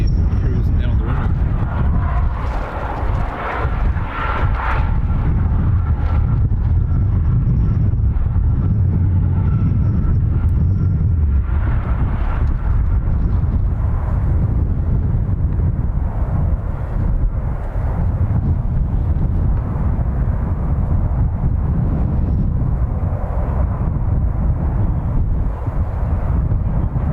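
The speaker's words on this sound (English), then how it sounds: "That noise you're hearing is the rescue vehicle cruising down the runway." An airport rescue vehicle drives down the runway at Dublin Airport, a loud, continuous low rumble mixed with wind buffeting on the microphone, with a voice talking over it.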